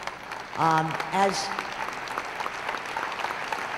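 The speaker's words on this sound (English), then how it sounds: "I would just like to call the attention of all the delegates to the workers that are here from Iraq, if they would stand up a minute so we can all applaud them" Delegates at a labor convention applaud workers from Iraq. A brief voice comes first, then a soft, even patter of clapping spreads through the hall and continues at a moderate distance.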